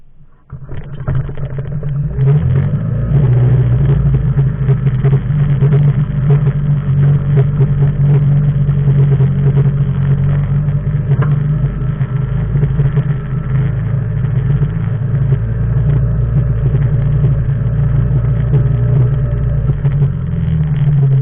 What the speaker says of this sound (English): The boat starts up and runs easily